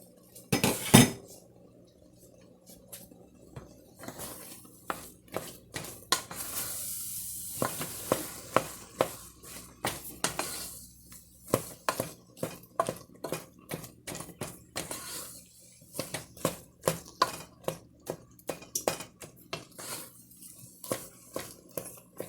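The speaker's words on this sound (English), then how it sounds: "now I'm just kind of mashing it with the back of the spoon" Soft cooked apples for homemade applesauce being mashed with the back of a metal spoon in a pot, many repeated clinks and taps against the pan in an irregular rhythm over a light sizzle.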